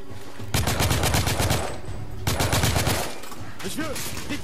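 Gunfire from enemy shooters in the PS4 game The Order 1886, two dense bursts of rapid close shots separated by a short lull, followed by quieter scattered sounds.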